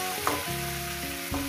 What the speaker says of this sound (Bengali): আরো আমি 4-5 মিনিট ধরে সবজিটাকে আমি ভাজবো